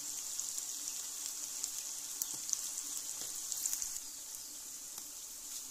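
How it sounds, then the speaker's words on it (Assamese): Ginger-garlic paste fries in oil in a pan with a soft, steady hiss and occasional faint spatters, fairly quiet and without talk. "আদা নহৰুখিনি কেঁচা গোন্ধটো যোৱালৈকে ভাজি ল'লোঁ"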